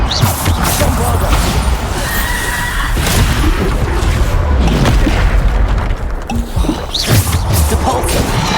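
Heavy Bombarda spell explosions in Hogwarts Legacy crash and boom loudly amid a thick wall of battle effects, with a few sharp impacts standing out.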